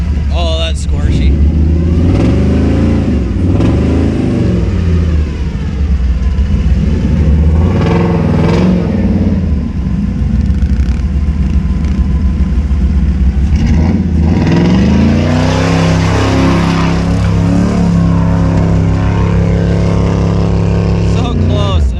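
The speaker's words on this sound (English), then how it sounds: "So close, and then the tranny starts slipping." Car engine revving hard and loud with a slipping transmission and a loose stall converter, revs rising and falling in long sweeping surges while people talk over the noise.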